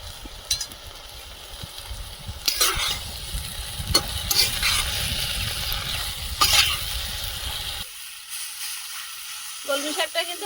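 Kalmi greens (water spinach) frying in a pan with chili, salt and turmeric, crackling sizzle beneath repeated scraping strokes of a spatula stirring, close up, before the sizzle drops away near the end.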